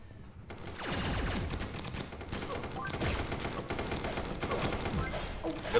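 Rapid gunfire from a close-range sniper rifle in the mobile shooter Pixel Gun 3D, a dense burst of sharp shots with game effects running continuously and loudly throughout; no speech.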